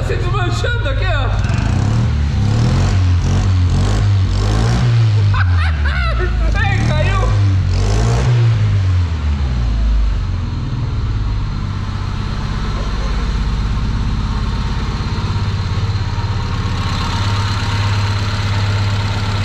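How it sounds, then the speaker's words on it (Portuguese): A Chevrolet Vectra with a deteriorating exhaust, started after ten years parked, runs in a loud rough idle with a few revs early on, while people talk over the engine throughout. "O motor tá funcionando, é o que vale."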